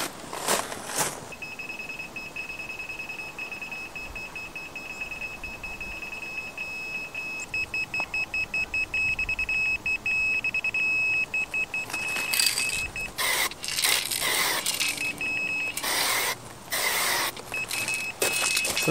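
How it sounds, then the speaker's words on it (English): A laser level set up outdoors for marking out an inground wooden pool gives a steady high electronic tone that turns into rapid repeated beeping toward the end, fairly loud against a constant background hum. "when this starts beeping, I know that it's perfectly parallel with the house."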